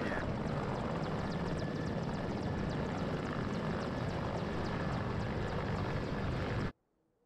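A Mi-24 Hind attack helicopter flies in the war strategy game WARNO, a steady loud rotor and engine roar that holds constant throughout and then cuts off abruptly at the end.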